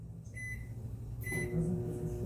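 A steady microwave oven hum runs throughout, with a low motor drone and a faint high tone, growing slightly louder partway through.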